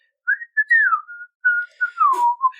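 A person whistles the theme song of Disney's Robin Hood, several sliding phrases with short pauses between them, close and clear with no talking.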